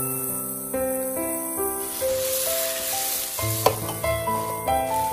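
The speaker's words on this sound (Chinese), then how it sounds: "准备好的鸡蛋也倒下去，然后快速的翻炒均匀" Broccoli and beaten egg being stir-fried in a wok, a steady sizzle with scraping spatula strokes, a sharp clank partway through, and a musical tone running beneath the cooking sounds.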